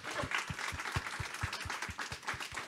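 Round of applause at a conference's closing session for sponsors, volunteers and speakers: close, fairly quick claps in an even rhythm stand out over a quieter bed of crowd clapping, brief and moderately soft.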